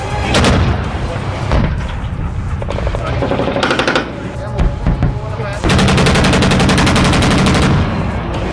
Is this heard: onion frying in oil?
no